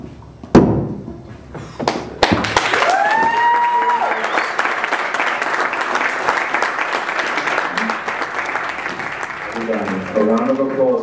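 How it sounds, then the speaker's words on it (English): Applause from an audience at a Zeitgeist NYC performance during a Z-Day march event rises after a few thumps and holds as a loud, sustained wash of clapping, with a voice and some calls cutting through near the end. "A round of applause for our local"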